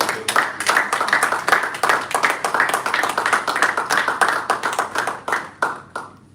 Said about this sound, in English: Could we please once more give a round of applause to everyone who has walked up there to speak